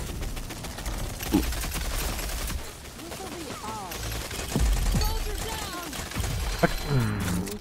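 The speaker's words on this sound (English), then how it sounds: "just keep shooting" Rapid gunfire from the video game Rogue Company keeps going throughout, with bursts and single shots layered under excited player chatter.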